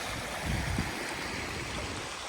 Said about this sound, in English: I think this might be the hardest river crossing yet.